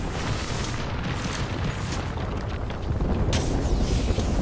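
A frag grenade explodes in Apex Legends, a deep booming blast with rumbling low-end that swells again toward the end amid noisy game ambience.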